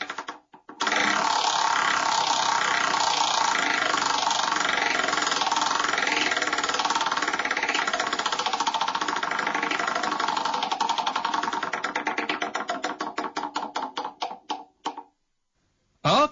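A big prize wheel spins with rapid ratcheting clicks from its pointer, holding a fast rattling pace and then slowing into separate, spaced-out ticks before stopping.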